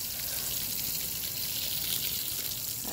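Water sprays in a steady hiss while garden plants are watered, a continuous close-up rush with no break across the short stretch.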